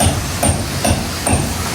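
Steady hammer blows ring out at a beach bar being rebuilt after storm damage in Puerto Vallarta, Mexico: four evenly spaced strikes, each under half a second apart, over a constant outdoor wash.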